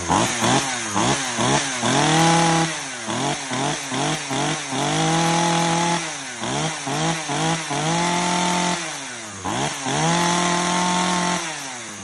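A Makita chainsaw runs in a cutting test, loud and close, its engine revving up and down in rapid repeated bursts with sustained high-pitched whining stretches between them, no voices.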